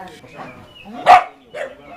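Dogs bark at an animal shelter in Uganda, with a few short barks and yips that are clearly audible under a voice speaking nearby.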